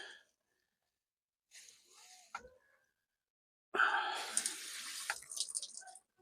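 Water pours and splashes into a potted cactus in short bursts, with a brief trickle followed by a longer, louder stream and quiet gaps between.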